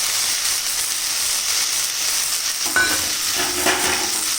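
Fried paneer stirred into a banana flower and chickpea curry in a pan, a steady close sizzle and hiss with a couple of scraping stirs near the end, no voices.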